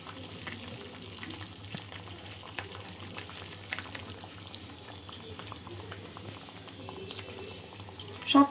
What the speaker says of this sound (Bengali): সব কিছুক্ষণ ফুটিয়ে নেব সমস্ত উপকরণগুলো।